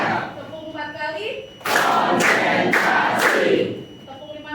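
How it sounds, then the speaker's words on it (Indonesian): A class of pupils claps four times in unison, four sharp, evenly spaced bursts that follow a teacher's spoken cue in a classroom. "Tepuk 4 kali"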